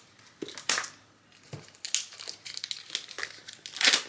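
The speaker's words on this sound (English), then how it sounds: "now let's actually open this here deck" Plastic wrapping on a card deck crinkles and crackles at close range as it is torn open on a desk, in irregular bursts of rustling with short pauses between them and no talking.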